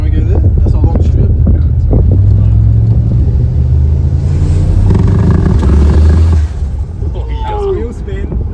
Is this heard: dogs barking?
no